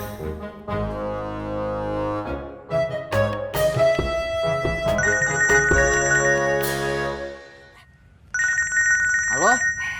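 A mobile phone ringtone plays in a home, a bright repeating melodic ring that sounds loud and close, mixed with several people talking over it, cutting off briefly and then starting again.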